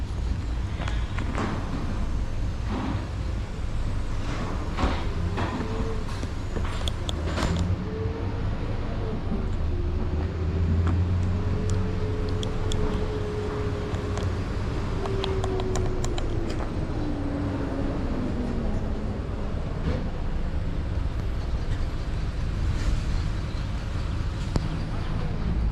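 A car drives on a road in Clarendon, Jamaica, between Toll Gate and Scotts Pass, a steady low engine and road rumble heard from inside with a brief rising engine whine midway, under occasional talk.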